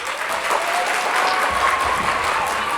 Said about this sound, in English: Let's give our friends a round of applause.